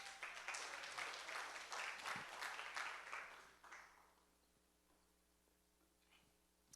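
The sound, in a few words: congregation applause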